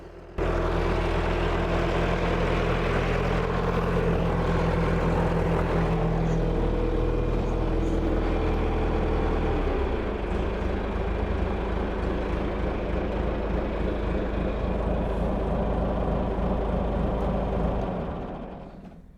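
A John Deere backhoe's diesel engine, fitted with a new injection pump, runs at a steady, close, heavy idle for about seventeen seconds, with a slight change in tone partway through, before cutting out.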